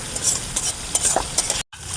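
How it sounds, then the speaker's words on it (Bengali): Masala spices being stir-fried in a pan for a village-style egg curry, a steady close scraping and sizzling with rhythmic stirring strokes, briefly cut by a short gap, with no voices. "এখন আমরা এটাকে 10 মিনিট কষিয়ে নেব।"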